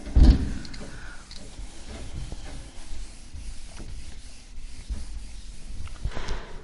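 Something rubbed back and forth across a surface, producing soft, continuous scratchy friction at a low level, with a slightly louder knock at the start.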